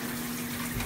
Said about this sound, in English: Okay, so she's in the shower.